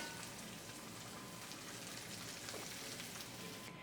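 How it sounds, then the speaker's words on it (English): Rabbit pieces searing in olive oil in a pan, a faint, even crackling sizzle running steadily throughout with no talking. "I love that sizzle."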